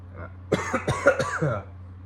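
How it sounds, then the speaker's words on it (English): A short fit of coughing, several quick harsh coughs in a row, close to the listener, with a low steady hum beneath. "I have a little bit of a cough too."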